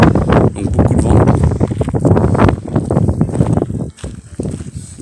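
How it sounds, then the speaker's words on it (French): Strong gusting wind roars steadily across the microphone while cycling in Belfort, a loud rumbling buffeting that swells and dips through the whole stretch. "On va avoir beaucoup de vent, j'espère que le son sera pas mauvais."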